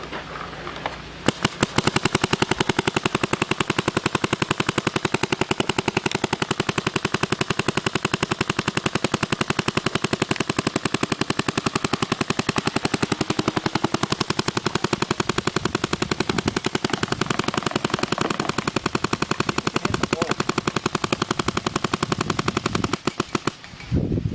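Vank 1.5 paintball gun firing in rapid, nearly continuous bursts for over twenty seconds, a dense loud clatter of shots with only brief gaps, close and dominant with no talk over it.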